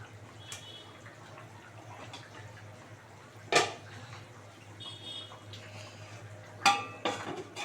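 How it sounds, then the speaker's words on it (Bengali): A metal lid set down over a pot of Bengali pangas fish curry with potatoes simmering on the stove, heard as two sharp clanks a few seconds apart above a low steady hum and faint bubbling. "এবার একটা ঢাকা দিয়ে দেবো পাঁচ মিনিটের নামে পুরো ঢাকা দিয়ে দেবো"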